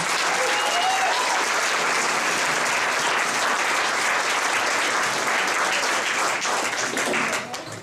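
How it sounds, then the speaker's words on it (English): Dense, sustained applause from a theater audience thanking the wait staff and crew at a dinner-show production, loud and steady for nearly eight seconds before starting to thin out at the end. "Let's give them a round of applause."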